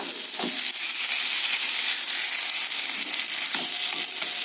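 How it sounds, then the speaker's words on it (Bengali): Water goes into a pan of sizzling fried masala with tomato, setting off a loud, continuous hissing bubble, with a few soft stirring knocks underneath. "এবার আমি এতে জল দিয়ে দেবো"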